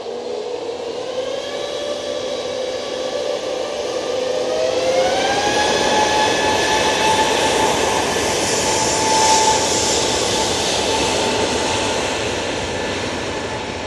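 A British Airways Airbus A321neo at Manchester Airport spools up its jet engines for takeoff: a loud, steady roar with whining tones that climb in pitch partway through and then hold, building and staying close throughout.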